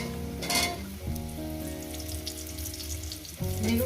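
Potatoes fry in a pan for a spicy rohu fish curry, a soft continuous sizzle running under tonal background music, with brief louder bursts of frying or stirring near the start and end.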